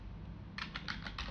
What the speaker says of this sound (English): type in the command that will actually delete it